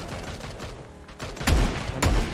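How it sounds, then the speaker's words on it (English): Gunfire in a battle royale video game, a few sharp shots with two louder bursts near the end, heard over faint background game sound. "He's shooting someone else."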